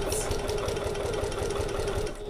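A sewing machine stitches an extra pocket into a corner on a smaller stitch length, a close, rapid mechanical chatter with an even running rhythm throughout.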